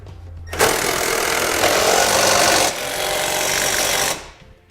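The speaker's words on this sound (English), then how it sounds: "I'm going to be using a 15mm socket for the nuts holding our bumper beam in place." Power socket tool with a 15mm socket driving nuts on a vehicle's bumper beam during a Curt trailer hitch install, one loud continuous buzzing rattle lasting about three and a half seconds with a slight change in pitch partway through.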